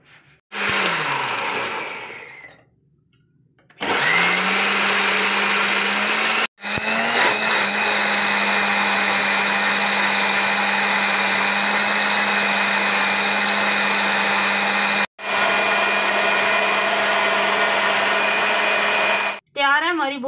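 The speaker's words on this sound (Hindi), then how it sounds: "अब इनको हम करेंगे ग्राइंड" Electric blender grinding pomegranate seed and mint chutney with cumin, salt and garam masala, a loud whirring motor run in several bursts with short pauses and pitch shifts as it spins up and down.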